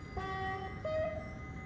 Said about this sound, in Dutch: Ik vind trouwens wel dat de buffel een van de mooiere tyfonen heeft.